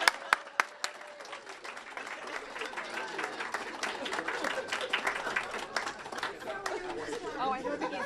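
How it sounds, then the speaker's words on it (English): Audience at a career-program graduation ceremony applauds, a few sharp claps at first and then a steady wash of clapping mixed with crowd chatter and talking voices throughout. "you guys can give these guys a round of applause"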